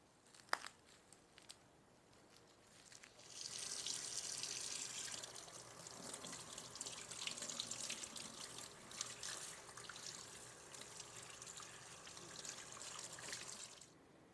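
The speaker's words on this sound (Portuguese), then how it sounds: "eu lavei o peixe na pia com água fria" Cold tap water runs steadily into a kitchen sink as a raw salmon fillet is rinsed under it, a close, continuous splashing hiss that starts after a short pause and stops near the end.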